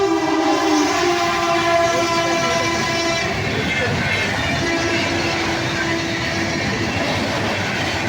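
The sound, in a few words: passing train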